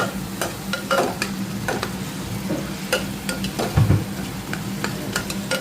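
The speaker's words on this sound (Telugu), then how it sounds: "ఇప్పుడు కరివేపాకు స్టార్టింగ్లో వేయడం మర్చిపోయాను, ఇప్పుడు వేస్తున్నాను" Curry leaves dropped into a hot frying pan with mashed food, giving a steady sizzle with repeated spoon scrapes and stirring knocks, close and moderately loud, no voices.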